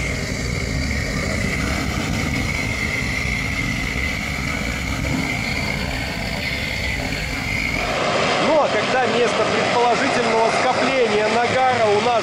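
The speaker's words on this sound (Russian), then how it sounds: "И вот уже лампа вышла на рабочий режим. Загудела." A blow lamp roaring at full working flame, about to heat a muffler for annealing, a loud, steady roar that continues throughout, with someone speaking over it at first.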